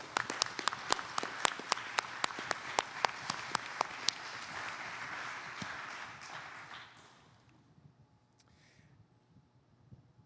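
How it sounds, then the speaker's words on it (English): Applause at a special town meeting, with sharp, distinct claps from a few nearby hands over a softer spread of clapping that fades out after about seven seconds, leaving near quiet. "How about a round of applause for Joan Gardner, who started serving the town over 45 years ago?"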